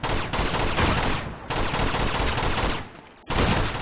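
Rapid bursts of gunfire from the video game Uncharted 2: Among Thieves, loud and dense, with a short break near the middle and another just before the end, in rainy surroundings and with no talking.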